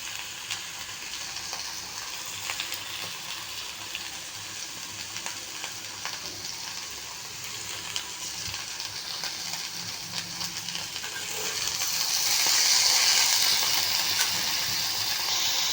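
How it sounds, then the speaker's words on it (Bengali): Three vegetables frying in a pan over a medium flame for paneer navaratna, a steady close sizzle and crackle with occasional stirring, swelling louder near the end. "এই 3টে সবজি ভালো করে আমাকে ভাজতে হবে।"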